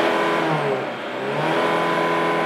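A VW Passat B5.5 with a 1.9 TDI diesel engine revs close by, a steady loud drone that dips briefly and climbs back up over about two seconds, with no talk.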